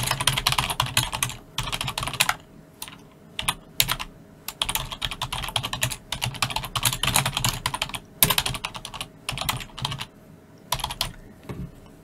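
Someone types on a computer keyboard in quick, uneven runs of close, crisp key clicks, broken by brief pauses, with no voices.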